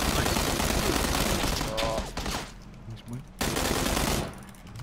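Gunfire in PlayerUnknown's Battlegrounds rattles in dense bursts over constant noise, briefly breaking off before a loud volley returns.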